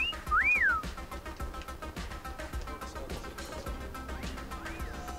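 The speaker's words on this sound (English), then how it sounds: "The hell was the whistle for?" A faint rising-and-falling whistle sounds twice inside the Teenage Mutant Ninja Turtles: Out of the Shadows video game, once at the start and again near the end, over quiet game background noise.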